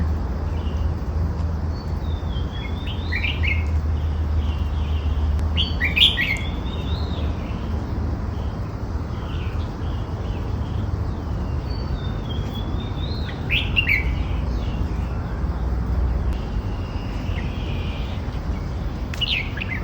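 A red-whiskered bulbul sings close by in bright, repeated chirping phrases over about twenty seconds, with steady low background rumble beneath the calls.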